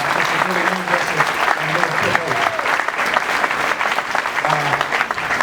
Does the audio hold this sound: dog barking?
no